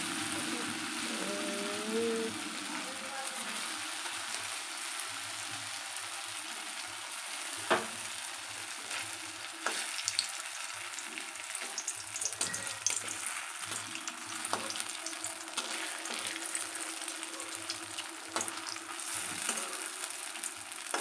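Pieces of tangra fish fry in hot oil with a continuous quiet sizzle and crackle, punctuated by a few sharper pops and utensil touches, heard close in a home kitchen.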